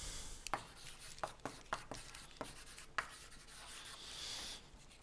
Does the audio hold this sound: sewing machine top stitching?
no